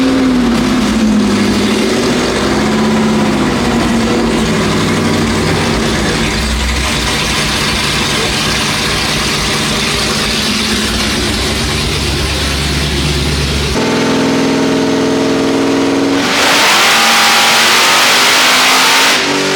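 A 954-horsepower car engine roars loudly and continuously through a full-throttle dyno pull. The pitch climbs and shifts with the revs, changing tone sharply near the end of the run.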